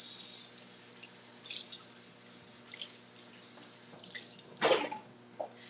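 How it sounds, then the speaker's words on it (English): Fresh bell peppers rinsed under a running kitchen tap, giving a steady hiss of flowing water broken by several splashy bursts as the vegetables are turned in the stream, close and fairly loud with no voices. "so I'm going to wash these peppers."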